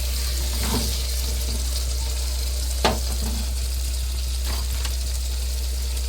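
Fenugreek seeds tipped into hot oil and stirred for a Kerala-style chili pickle, giving a steady sizzle with a few scraping stirs of the spoon, close and alone.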